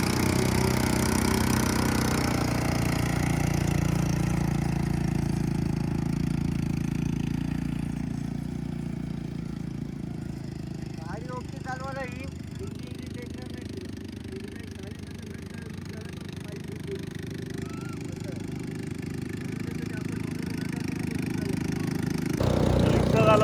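A motorcycle engine runs steadily and close throughout a bike ride, a continuous low rumble that eases slightly midway and swells again near the end, with no talk over it.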